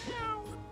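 A cartoon cat meows once in the Toontown: Corporate Clash video game during a boss fight, a short, clear, pitched meow that rises and falls, heard alone.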